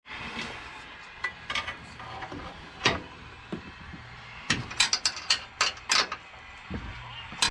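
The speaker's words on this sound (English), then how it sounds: "you can finger tighten these nuts down and then come back and only do maybe a full turn or so with a wrench" A wrench ratchets nuts tight on the suspension of a 2023 Nissan Frontier during a lift install, with short metallic clicking bursts and scattered clanks, close and clear in a quiet shop.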